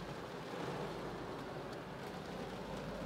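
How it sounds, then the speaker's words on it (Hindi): Heavy downpour of monsoon-style rain in DHA, Lahore, washing over a car: a steady, dense hiss that stays loud and unbroken throughout, with no voices. "फुल मूसलाधार बारिश।"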